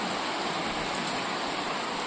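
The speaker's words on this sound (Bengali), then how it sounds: "বাইরে বৃষ্টির আওয়াজটা দেখুন।" Heavy rain pours down outdoors as a steady, dense hiss of broadband noise that stays constant throughout, with no voices.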